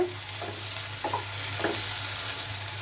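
Potatoes sautéing in a pan under a lid, with a steady soft hiss and a low hum running throughout, plus a few brief stirring or scraping clicks spaced about half a second apart.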